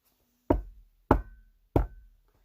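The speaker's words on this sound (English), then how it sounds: "there came another knock at the door" Three firm knocks at a door, evenly spaced and close, each a sharp thud with a short ring, with silence between.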